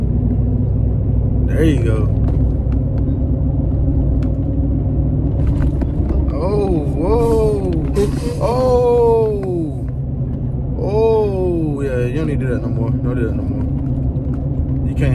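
A new truck in sports mode accelerates hard, its engine rumbling low and steady throughout, while people talk and shout over it inside the cab.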